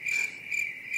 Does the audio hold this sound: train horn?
no